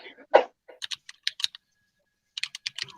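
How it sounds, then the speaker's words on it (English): Typewriter keys clacking in quick, irregular bursts with short pauses between runs, close and fairly crisp, with a brief low thump near the start. "Only someone's on a typewriter."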